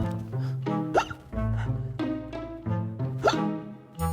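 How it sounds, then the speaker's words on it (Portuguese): A cartoon cat hiccupping, sharp plopping hiccups recurring at intervals between tonal, voice-like sounds, fairly loud and close. "Esse soluço não passa!"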